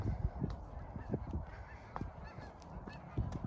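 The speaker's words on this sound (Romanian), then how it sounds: "Uite rață, gâște." Geese honking in a park, repeated short honks in an irregular run, fairly close and moderately loud, with no voices over them.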